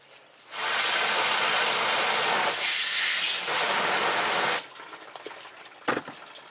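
A strong stream of water hisses steadily for about four seconds as a cleaned fish is rinsed, then cuts off, followed by faint handling sounds and a brief knock.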